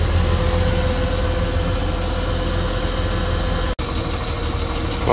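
A 4.3 Vortec V6 in a Hyster forklift, thought to have a bad rod bearing, idles with a steady low mechanical drone and a faint whine, broken by one short dropout near the end.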